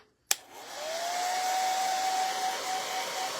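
A hair dryer drying painted layers on a wooden quilt block clicks on after a brief silence and then blows steadily and loudly, with a faint whine rising and holding as it runs, with no talk.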